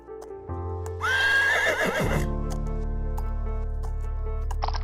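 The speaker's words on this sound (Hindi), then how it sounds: "और उस घोड़े पर बैठकर नदी पर से चलते हुए वो नदी के पार पहुंच गई" A horse whinnies loudly once, with a rising, shrill call, over a sustained musical drone, and soft hoof clip-clops follow in a cartoon story about a magical horse.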